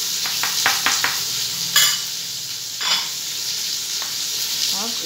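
Tikka masala is stirred into biryani in a hot pan, with bursts of scraping strokes over a steady sizzle that runs throughout. The sound is close and there is no talk.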